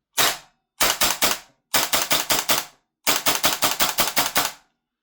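A WellPro AK12 gas blowback airsoft rifle fires on semi-auto: sharp, punchy close-up shots in quick bursts of one, then three, then five, then eight, with short silent gaps between groups.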